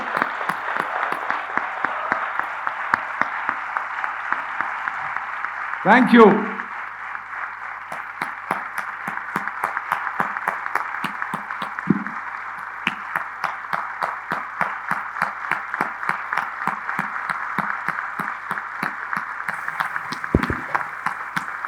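Steady applause from a seminar audience fills the whole stretch, dense and continuous, with a brief voice offering thanks partway through and a few scattered bumps.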